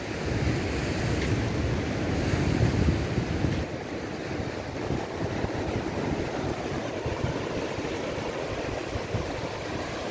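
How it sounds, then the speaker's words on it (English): Waves and wind on Hastings Beach on the south coast of Barbados: a continuous broad wash of surf with wind buffeting the microphone, steady and fairly loud, with no voices. "Lovely Hastings Beach."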